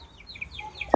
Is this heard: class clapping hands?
no